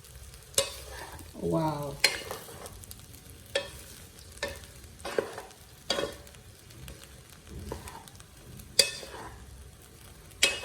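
A wooden spoon stirs beef fried rice in a hot pan: roughly one scraping stroke per second over a soft, steady sizzle. A voice gives a brief exclamation partway through.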